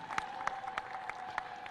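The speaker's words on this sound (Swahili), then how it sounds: "makofi mengi na vigelegele" A brief burst of crowd applause at the official inauguration of a Tanzania Revenue Authority building in Simiyu, with dense clapping and a sustained high tone above it, heard from a distance.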